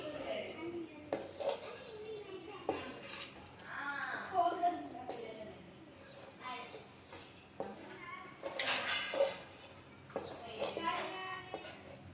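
A spoon scrapes and clanks against a pan while chicken fried rice is stirred and mixed, irregular metallic knocks and rasps in bursts, close and fairly loud with pauses between.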